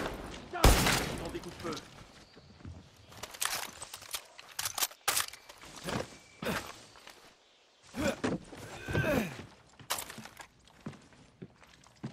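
Gunfire in the Far Cry 6 video game: scattered bursts and sharp shots at irregular intervals, some loud and close, mixed with thuds and movement, with a voice speaking in between.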